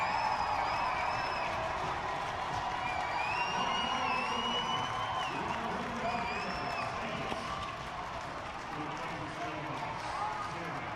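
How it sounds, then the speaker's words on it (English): A crowd at a college club hockey game, Mizzou against Kansas, cheers and applauds. The roar is steady and somewhat distant, and whistles and whoops rise above it while a commentator talks over the noise. "And listen to that crowd."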